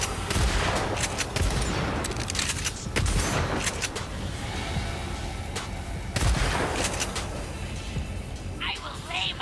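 Heavy explosions from the video game Agents of Mayhem burst in loud, repeated blasts amid constant gunfire-like crackle, with a voice talking over the chaos.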